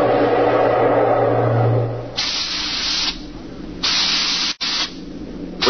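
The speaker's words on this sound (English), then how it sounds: "We could hear the desperate bursts of steam through the steering tubes as the Starfire maneuvered to dodge the enemy attacks" Radio-drama bursts of steam through a spaceship's steering tubes: after a low rumbling hum, three loud, sharp hissing blasts come in separate bursts, each cutting off abruptly, with no voices over them.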